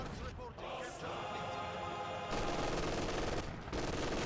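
Sustained machine gun fire in Company of Heroes 2, a continuous rattling burst amid a busy 4v4 battle soundscape, with a caster's voice faintly present underneath.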